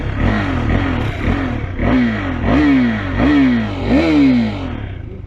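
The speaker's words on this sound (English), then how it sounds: "Engine sound. A Krapovich, man." A 2022 KTM RC390 single-cylinder motorcycle with an Akrapovic exhaust revs repeatedly up and down, loud and close, in a rhythmic series of throttle blips over a rumbling idle.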